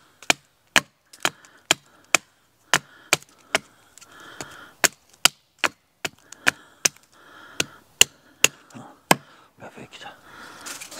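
Wood being chopped with sharp, loud blows to shape a small digging stick in the jungle: about twenty close, crisp strikes land in a steady, even rhythm with no one talking.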